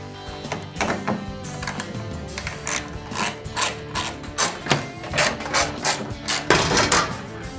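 A Torx T30 driver works fasteners loose from an F-150 tailgate panel, giving a close series of sharp ratcheting clicks and mechanical thunks in an uneven rhythm, with no talking.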